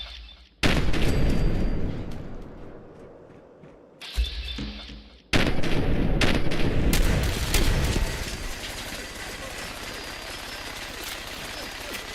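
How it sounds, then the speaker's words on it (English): Shotgun blasts in Fallout 4 during a fight with a legendary enemy, a few heavy booming shots with abrupt onsets and a ringing, noisy tail, loud and close. "I gotta pull out the shotgun."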